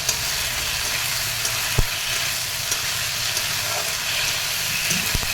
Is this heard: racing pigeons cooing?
no